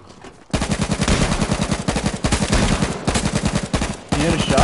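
Rapid automatic gunfire in the battle-royale game H1Z1 comes in loud, dense bursts with brief pauses between them, close and harsh throughout, and no talk over it.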